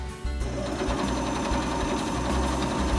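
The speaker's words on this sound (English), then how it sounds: "So I had four sewing machines and not one would work, so I had to go and buy a new one." Sewing machine running steadily in a fast, even mechanical rhythm, close and fairly loud after a brief quiet start, used for sewing heavy, thick curtains.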